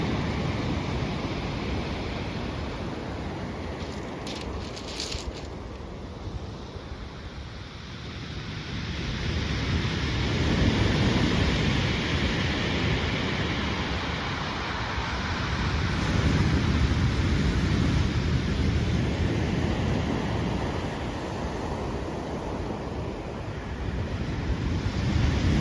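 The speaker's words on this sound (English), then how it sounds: "The sea is just absolutely roaring still." Heavy sea surf roaring onto Chesil Beach, a shingle shore in March, a steady loud wash of breaking waves swelling and easing, with wind buffeting the microphone throughout.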